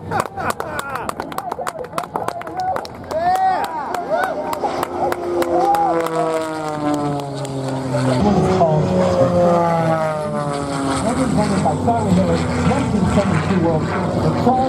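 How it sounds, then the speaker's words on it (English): An aerobatic propeller airplane at an air show roars loudly nearby, its engine pitch sweeping up and down as it maneuvers, pulling up to the vertical, with people talking over it. "The Charlie Miller pulled plane up to the vertical, just like what we saw"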